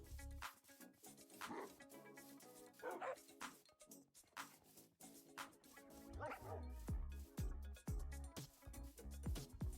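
Dogs in the video game Minecraft bark and yip repeatedly in quick, uneven bursts over a background of game sounds, some barks close and loud, others fainter.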